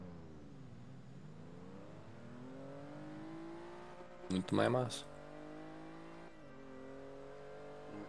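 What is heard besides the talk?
car engine revving in a driving video game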